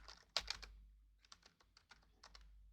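Typing on a computer keyboard during a database query demonstration, a quick run of light key clicks followed by two more short bursts, close and fairly quiet with no talking.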